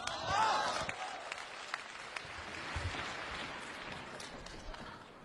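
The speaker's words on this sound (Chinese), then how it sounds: "感谢大家的掌声" Audience clapping at a Chinese crosstalk show, a burst of applause that swells early and then thins into a softer, scattered patter across the hall.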